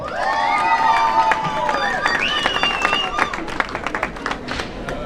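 A crowd at an outdoor festival prize-giving claps under an announcer's amplified voice, a steady patter of applause with a few shouts spread through the talk.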